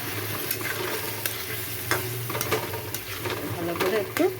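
Boiled potato being stirred and sautéed in masala in a pan, soft scraping and stirring strokes over a low, steady sizzle, with a few brighter clinks toward the end.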